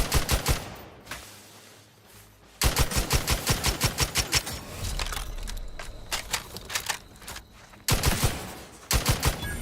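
Gunfire fills a war zone in The Outer Worlds 2, with rapid automatic bursts of sharp, loud shots broken by short pauses and a quieter stretch, then sudden fresh volleys, with no speech.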